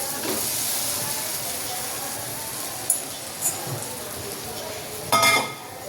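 Ridge gourd (galka) tipped into a hot pan of spiced oil for Kathiyawadi galka shaak. A steady hissing sizzle runs throughout, with a few light clinks of utensils against the pan.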